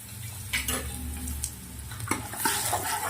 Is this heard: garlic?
yes